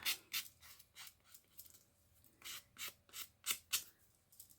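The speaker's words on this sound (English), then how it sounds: "I hate these little nubbins. So we sand those off." Hand sanding small nubbins off a craft tiara piece, a series of short, soft scratchy rubs in an uneven rhythm, close and quiet.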